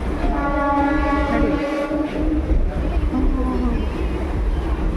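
A train at KR Puram railway station in Bengaluru rumbles steadily and loudly while a long, tonal horn sounds over it, fading and returning once more.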